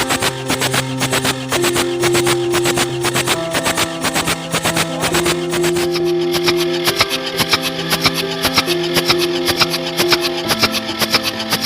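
An engine cranks steadily during a dry compression test, a fast, even mechanical churning with a dense rhythmic chatter that stays loud and close for the whole stretch, with no one talking.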